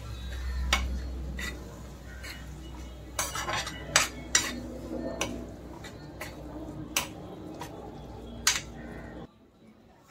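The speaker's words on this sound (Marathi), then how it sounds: "कोथिंबीर घालूया आणि ह्याला मिक्स करून घेऊया छानपैकी." A spoon clinks and scrapes against a dish while roasted eggplant bharta is mixed with red chili and coriander, a series of sharp, close metallic taps over a soft background hum, ending in near silence.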